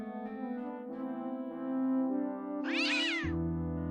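A cat meows once in the Day of the Tentacle video game, a loud, clear, bending cry that rises above steady game music underneath.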